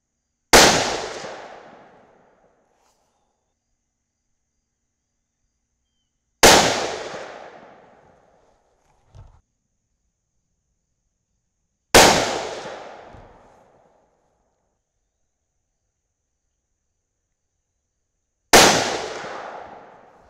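Four loud, sharp rifle shots from a .308 Winchester firing Sierra GameChanger 165-grain rounds at a 100-yard target, spaced several seconds apart, each with a decaying echo and a faint click or thud between two of them.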